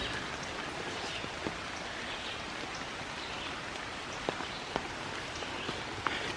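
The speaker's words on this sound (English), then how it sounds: "just walking in the rain" Steady rain falling in a wooded nature preserve on the Ohio River bluffs, a dense continuous hiss with occasional nearby drips and faint footsteps, no voices.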